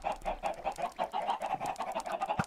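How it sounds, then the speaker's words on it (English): Chickens in the video game Minecraft cluck in quick, repeated bursts, a lively flock of bird sounds, close and moderately loud, with no voices over them. "We'll go and just check on our chickens, who should be doing alright."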